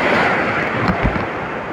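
Ocean waves wash steadily onto a reef-flat shoreline during a fishing trip in rough, choppy sea, a loud continuous surf roar mixed with wind buffeting the microphone, with one slightly stronger surge near the end.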